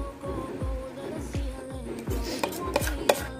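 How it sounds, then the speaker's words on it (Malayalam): Repeated light taps of a pineapple cake pan, filled with batter over pineapple caramel, against a kitchen counter, about a dozen steady, evenly spaced dull knocks, close and clear with no talking. "ബബിളില്ലാതിരിക്കാൻ നമുക്ക് ഇതൊന്ന് തട്ടിക്കൊടുക്കണം."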